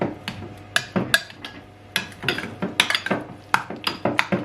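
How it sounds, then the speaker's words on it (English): The back of a spoon mashes egg yolks for deviled salmon eggs in a bowl, making a steady run of close scraping, tapping and clinking against the dish. "So I'm just using the back of the spoon"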